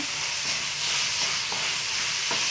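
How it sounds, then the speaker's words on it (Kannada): Curry leaves sizzling in hot oil, a dense continuous hiss of frying with faint soft crackles and taps scattered through it, close and fairly loud. "ಈಗ ಕರ್ಬೇವಿನ ಸೊಪ್ಪು ಹಾಕ್ತಾಯಿದ್ದೀನಿ."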